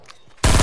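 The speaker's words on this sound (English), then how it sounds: "Why do people shoot so hard?" An abrupt, loud burst of automatic gunfire in a shooter video game erupts after a brief quiet moment, dense and continuous through the end.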